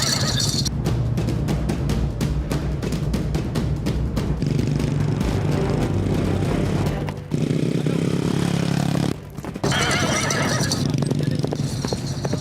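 A horse neighs and whinnies while hooves clip-clop in a steady, dense rhythm during a police arrest of a horse-cart driver, loud and close, with a brief drop near the end before the hoofbeats resume.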